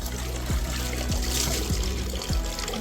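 Water is poured steadily over a Shih Tzu puppy during a bath, a continuous close trickle and splash with a few soft, regular thumps underneath.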